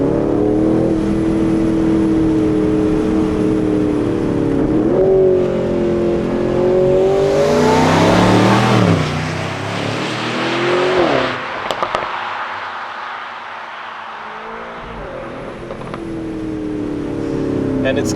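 An Aston Martin Vantage Roadster on Black Forest back roads revs up through several rising engine pulls and climbs to a loud peak. The exhaust then crackles and bangs on the lift-off before the engine settles back to a lower drone.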